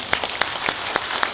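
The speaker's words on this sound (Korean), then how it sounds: "박수 한번 쳐주시고요" A small audience at a political talk-concert claps briefly in a scattered, uneven rhythm. The separate claps are clearly audible against a soft background, and no speech rises above them.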